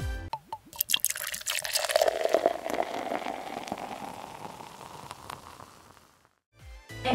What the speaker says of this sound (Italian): procediamo con riempire d'acqua il nostro barattolo circa fino a metà altezza